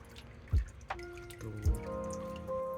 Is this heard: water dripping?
yes